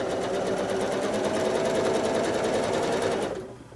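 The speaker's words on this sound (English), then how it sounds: "start actually stitching when your hands are ready to go." A sewing machine runs steadily for free-motion quilting, a loud continuous motor whir with rapid needle pulses that winds down and stops near the end.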